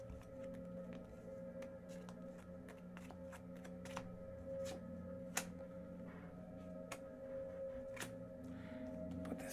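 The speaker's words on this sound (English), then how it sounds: "Put this back into the deck and shuffle." Cards from the Legendary Aliens deck-building game being shuffled by hand, a run of soft riffling clicks and snaps close by over a steady low room hum, with no talking.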